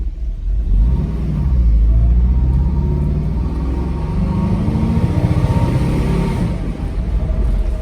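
A Mercedes SL500 with an unspecified fault accelerates hard on an open road, its engine rumbling low and loud from inside the cabin, climbing in pitch as it pulls, with no talk over it.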